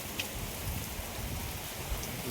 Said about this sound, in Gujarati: ચાલુ થઈ ગયો વરસાદ.